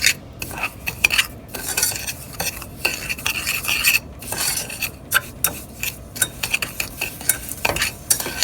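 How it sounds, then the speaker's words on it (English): A spoon stirs a mix of water, lemon juice and milk in a pan while making flancocho caramel sauce, with scraping, clinking strokes repeating steadily and close up, with no one talking. "I'm going to stir that up a little bit"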